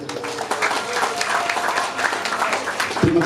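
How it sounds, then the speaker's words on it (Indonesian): Students at a high school anniversary ceremony applaud together in a steady, sustained round of clapping that carries on throughout, with a brief thump near the end. "Siswa-siswa tepuk tangan dulu untuk Pak Kadis"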